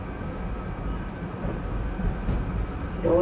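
SEPTA regional rail train rolling into Doylestown station in the snow, a steady low rumble of wheels and cars with a faint squeal rising near the end.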